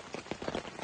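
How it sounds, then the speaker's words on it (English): Steady rain patters down outdoors on an early morning at a bushcraft camp, a dense, even hiss of drops with soft irregular taps, close and moderately loud, with no voices. "as you can hear, rain still in."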